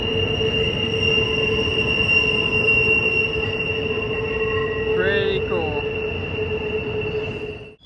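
Train rolling past close by near the Staple Bend Tunnel, a steady loud rumble with sustained wheel squeal and a brief burst of sharper screeching midway, with a short spoken remark over it.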